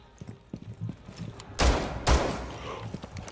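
Two loud, sharp gunshot blasts from a video game, spaced about half a second apart, fired at a camera and standing out clearly over faint background game sounds and footsteps.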